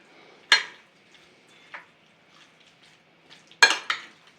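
Food being stirred in a pan while chicken breast cooks, heard as a few sharp utensil clinks against the pan with softer scraping in between, close and otherwise quiet.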